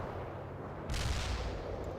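Airstrike explosions in the real-time strategy game World in Conflict, a sudden heavy rumbling blast rising out of steady low battle noise and staying loud and broad for about a second.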